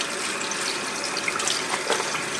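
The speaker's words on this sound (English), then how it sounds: "Hang on. I need to rinse. I'm holding this up so the water can drain down." Running water from a tap pours steadily over poke salat greens being rinsed in a sink, a close, continuous splashing hiss with no voices.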